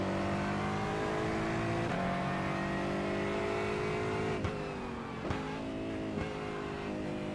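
Engine of an Aston Martin GT4 race car lapping Winton Raceway in iRacing, holding high revs with sharp upshift breaks and climbing pitch, loud and near with no voices.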